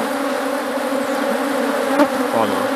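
Honeybees buzzing during the split of a strong beehive into two, a dense continuous drone close by with a brief knock partway through.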